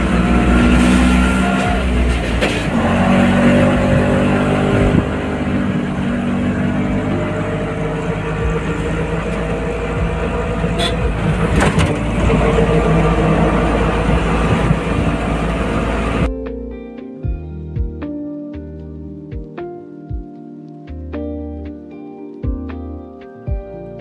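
A steady, rumbling small auto rickshaw engine runs continuously with road noise for most of the ride, then cuts to quieter idling and faint clattering near the end.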